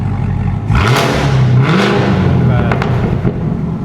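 A Chevrolet Camaro ZL1 exhaust revs up loudly and close by, its roar rising and falling across several blips, with scattered crackling pops between them and a voice speaking briefly over the engine.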